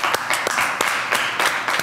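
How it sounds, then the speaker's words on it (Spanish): A studio audience and contestants applaud during an elimination on a junior cooking competition show, a brief burst of dense, steady clapping at close range. "Un aplauso, por favor."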